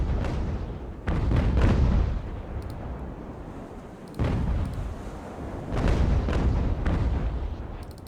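Broadside cannon fire from sailing warships in a naval battle game, with several heavy, rumbling booms rolling out in two separate volleys and long decaying roars between them, loud and without speech.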